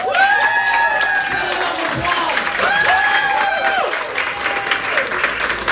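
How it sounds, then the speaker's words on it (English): An audience at a Republican voter registration drive applauds steadily, with dense clapping close and loud throughout, and a few voices rise over it. "Can I get a round of applause, please?"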